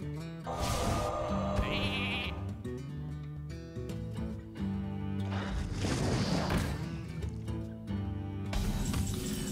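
A cartoonish sheep bleat from the Hearthstone card game rises over busy game music and effect sounds, with thumps and crashes around it; no one speaks.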